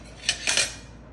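A spoon clinks and scrapes against a pot twice in quick succession while moong dal payasam with coconut milk and cardamom powder is mixed off the heat, close and brief, no talk.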